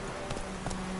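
Muffled clip-clop of Roach, the horse in The Witcher 3, galloping, a few soft hoof thumps under a steady hum of game ambience.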